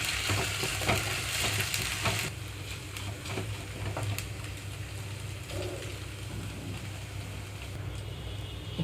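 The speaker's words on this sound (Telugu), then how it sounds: "లో ఫ్లేమ్లోనే ఉంచి వేయించుకుంటున్నాను" Onions with ginger garlic paste frying on low flame for pudina rice, a continuous crackling sizzle with occasional stirring clicks, louder at first then settling to a softer steady fry.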